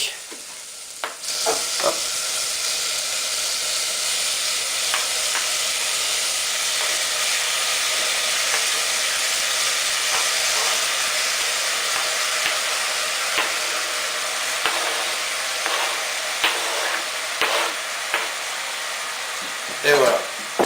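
Tomatoes dropped into a pan of sizzling shallots with herbes de Provence, thyme and bay leaf, giving a steady close frying hiss with scattered pops and clinks, a short spoken word near the start.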